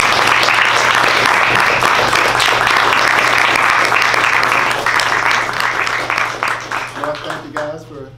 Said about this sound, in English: That applause, you know.